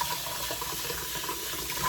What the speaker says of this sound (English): Then I'm rinsing with hot water.